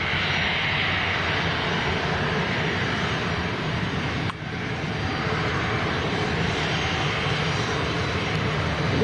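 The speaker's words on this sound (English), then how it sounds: "The inbound Bulgarian A319 is making pretty patterns at the moment." A Bulgarian Airbus A319 airliner flying near Leeds Bradford Airport, a continuous loud roar of jet engines that holds steady across the clip, heard alone with no talk.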